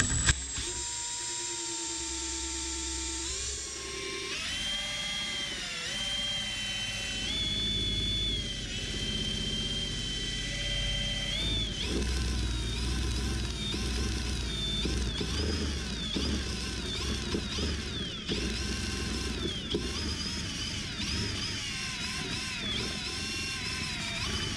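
Big power drill spinning a Waterlily generator in a bench test, a steady loud whirring motor tone with shifting pitch as the drill fights the generator's controller, continuous and close throughout.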